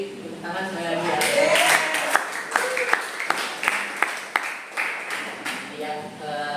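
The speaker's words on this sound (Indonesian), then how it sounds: "kita beri tepuk tangan sekali lagi ya" Audience applause in an Indonesian school physics classroom after a student presentation, a steady wash of many hands clapping with a few sharper claps standing out, close and continuous.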